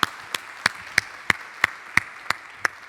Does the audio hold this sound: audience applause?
yes